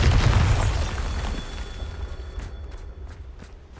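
A Bombarda explosion spell cast in Hogwarts Legacy, a loud booming blast at the start whose rumble decays over a few seconds, with faint scattered game sounds after and no talk.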